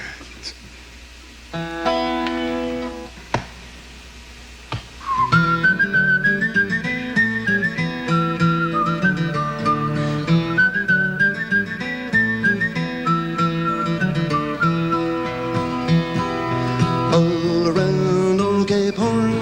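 Mouth whistling imitates a tin whistle at a live concert, playing a lilting melody over strummed guitar; the whistled line carries loud and close across the tune.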